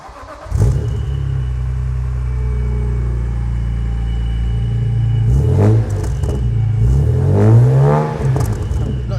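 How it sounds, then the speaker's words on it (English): A supercharged BMW E46 M3 engine cold-starts up close, catching with a sharp flare then settling into a loud, steady high idle with a brief rev blip later on, with no talking. "Cold start coming up."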